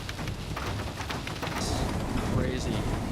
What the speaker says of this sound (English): The heavy rain and poor visibility force them to pull over again